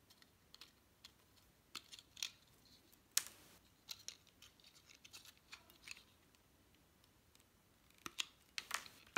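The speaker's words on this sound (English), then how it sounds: "And twist it around. And trim off the excess." Scissors snip and trim excess paper on a Wildflower Saloon SVG craft kit, giving sparse, sharp little cuts and rustles at irregular intervals, close and fairly quiet, with no voices.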